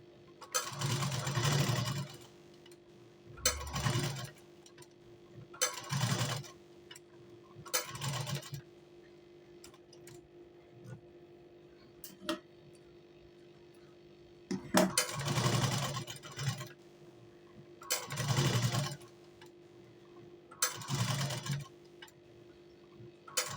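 Sewing machine stitching a blouse sleeve, running in a series of short bursts of rapid mechanical whirring separated by brief pauses, with a faint steady hum underneath.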